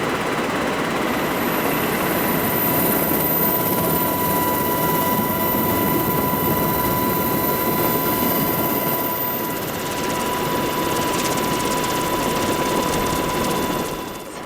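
Military helicopters at Camp Ripley, machines able to carry water buckets for forest fires, give off a loud, continuous turbine whine and rotor roar that holds steady throughout with a faint high tone above.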